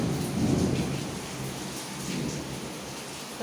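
Steady, dense rain in Bangalore hisses throughout, pouring onto a house's front yard, with a low rumbling undertone and no voices.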